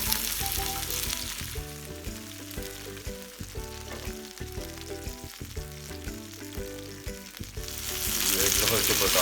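Chicken shashlik pieces fry in a pan with a steady hissing sizzle, partly buried under loud background music, and the sizzle swells toward the end.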